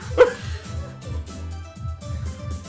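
A dog barks once, a short sharp yelp, in the video game 100% Orange Juice, then falls quiet under steady game music.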